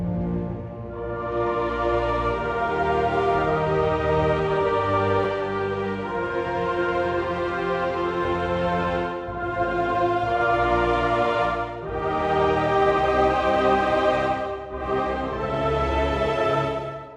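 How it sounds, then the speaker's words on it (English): Sustained synthesized orchestral chords with choir-like voices, full and rich, changing harmony every few seconds with brief dips between chords. "This sound is a full orchestra with choir,"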